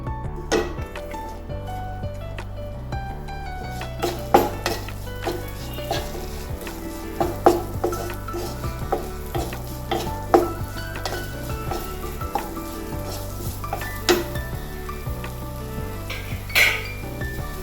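Sliced onions sizzle steadily in a pan of hot oil with cumin, garlic and green chilli for an aloo palak curry, with frequent clinks and scrapes of a spoon stirring against the metal pan, and no talking.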